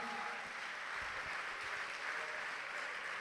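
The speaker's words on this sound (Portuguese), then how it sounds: "Vamos aplaudir o Senhor." A church congregation applauds during a sermon, a continuous wash of many clapping hands heard at a steady, fairly distant and soft level.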